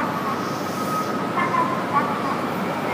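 Hokuriku Shinkansen Hakutaka 558 pulling into a platform at Tokyo Station, a steady low rumble and hum of the arriving train with faint tonal squeals, under busy station ambience and nearby voices.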